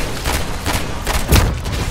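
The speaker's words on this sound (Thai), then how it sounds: "นี่ไงระเบิดไปกิน" Explosion in Call of Duty Warzone zombies mode, heard amid continuous rapid gunfire-like bursts, with a loud low boom rising near the end of the short, dense battle noise.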